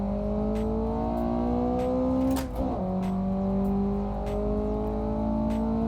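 A car in the racing game Assetto Corsa Evoluzione cruises slowly around the Top Gear test track, its engine a steady, close hum with one brief dip and gear shift partway through.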